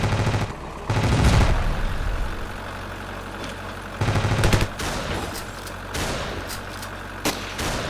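Rapid helicopter gunfire in a video game, several loud bursts over a constant engine drone, the fire coming in uneven clusters.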